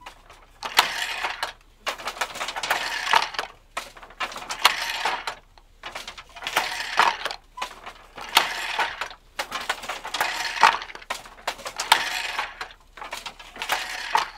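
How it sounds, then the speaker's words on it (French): A weaving loom running, giving a steady rhythmic clatter of repeated wooden and metallic knocks at roughly even intervals, close and clear with no talking. "Alors le bruit du métier à tisser n'est pas désagréable, il rythme le travail."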